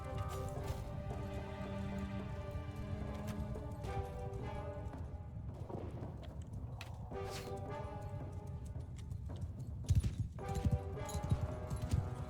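Horse archers' hooves clatter through a Shokuho battle as a dense, continuous trampling of many mounts, set in a loud bed of combat noise with sharper impacts near the end.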